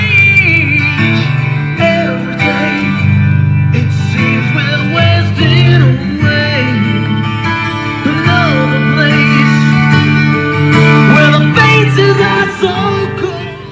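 Rock music plays loud and steady from the stock stereo inside a 1996 Ford Crown Victoria police package, with full bass, vocals and guitar filling the cabin throughout, and no talk over it.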